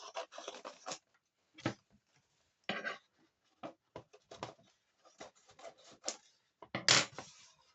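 Paper being cut for a beginner scrapbook album gives short crisp snips and rustles in irregular bursts separated by silent gaps, close and fairly quiet, with one louder crunch near the end.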